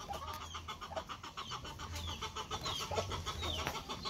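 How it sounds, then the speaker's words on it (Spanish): Chickens cluck on a farm in repeated short, scattered calls at moderate distance, with a low rumble underneath and no talking. "Con esas gallinas, miren."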